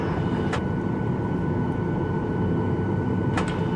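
A passenger airliner taxiing toward the runway: a steady, loud, broad engine rumble and hiss that fills the whole clip, with two short higher-pitched sweeps partway through.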